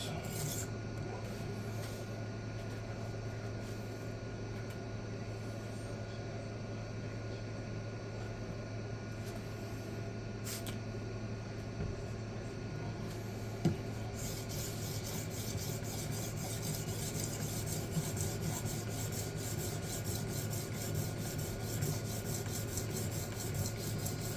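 A knife blade is drawn steadily across a Ruixin resin-bonded diamond stone in a continuous, even rasping scrape that runs at low level throughout with no pauses.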